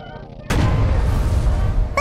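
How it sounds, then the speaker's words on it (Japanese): A Type 0 61cm quintuple torpedo launcher is test fired in the tank-design game Sprocket: a sudden loud boom sets off a sustained roaring rumble, with another sharp burst at the very end. "まっすぐにして試し撃ち。"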